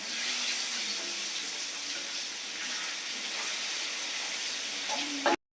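Kingfish pieces frying in a pan of hot oil, giving a steady, even sizzle with fine crackling throughout that cuts off abruptly at the end.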